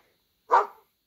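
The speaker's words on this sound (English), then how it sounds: "dog," A single sharp dog bark, short and fairly loud, alone against silence.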